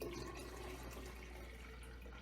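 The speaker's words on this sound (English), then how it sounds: "Now, we'll add a bit more water" Water pours steadily into a tank fitted with a level gauge, a constant broadband rush that stays even and continuous throughout, with no talking.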